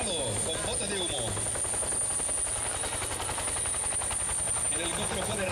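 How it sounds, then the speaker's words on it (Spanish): A Bell 212 helicopter flies close by during a marine infantry exercise, its rotor chopping in a fast, loud, continuous rhythm with a high turbine whine over the top. "El helicóptero puede realizar una nueva incursión, encargándose de que el aparato mantenga actitud de vuelo"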